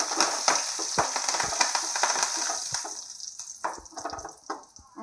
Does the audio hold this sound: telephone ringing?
no